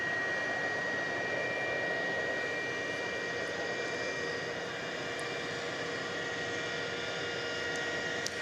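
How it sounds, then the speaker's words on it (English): Jet airliner taking off at DFW Airport at night: a steady, distant engine roar with broadband rushing noise holds evenly throughout, with no speech. "Let's see if we can do a proper takeoff sequence here."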